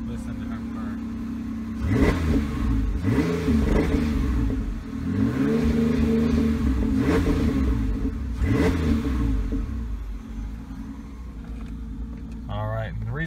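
Close by, a Ford Ranger pickup with freshly replaced intake gaskets runs on a freezing day, its engine revved repeatedly in rising and falling swells over a steady idle, with a person speaking over it.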